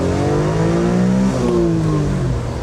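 Honda Beat 660cc three-cylinder engine revving high toward its 8,500 RPM limit, a loud close buzzing drone whose pitch climbs, dips briefly as it shifts, then keeps rising.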